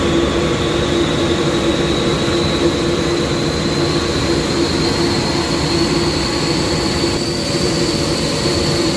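An Airpol 37 screw air compressor motor, started with a star-delta connection, runs with a loud, steady mechanical drone and a high whine that climbs slightly. It is close and continuous, with no voices.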